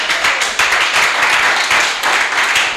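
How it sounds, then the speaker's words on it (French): A church congregation claps and cheers, loud, close, dense clapping with a few sharper individual claps standing out and a brief dip before it surges again. "Ça mérite des acclamations."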